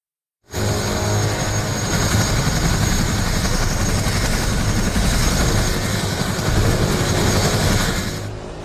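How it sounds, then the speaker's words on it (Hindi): An Mi-17 rescue helicopter flies over a cloudburst disaster zone in Uttarkashi, its rotor thudding loud and steady from start to finish after a brief silent lead-in, with no voices over it. "MI-17 हेलीकॉप्टर के जरिए लोगों को निकालने का काम शुरू किया गया"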